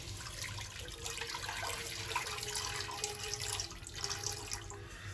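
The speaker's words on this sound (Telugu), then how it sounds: "నేను వాటర్ ఒక చెంబుడు పోసుకున్నానండి" Water is poured into a cooking pot for a spinach dal, making a continuous close splashing gush that runs steadily throughout.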